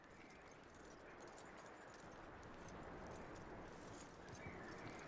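Horse hooves clip-clop steadily in Red Dead Redemption 2, a continuous trotting patter at moderate level against a dense, busy background, with no talk over it.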